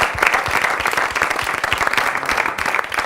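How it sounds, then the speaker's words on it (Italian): Group of students applauding in a television studio, brisk, close, evenly sustained clapping for about three seconds with no voices. "Un applauso ragazzi per cominciare"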